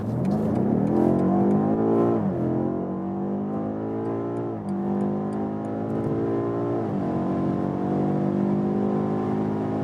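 A BMW M8 Competition Gran Coupé accelerates hard from 50 km/h in an aggressive automatic shift mode, its engine note rising in loud, continuous pulls broken by three quick upshifts.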